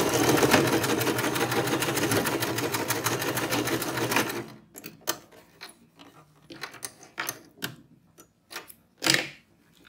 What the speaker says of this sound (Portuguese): vamos passar uma costura bem na beirada e depois nós vamos rebater essa costura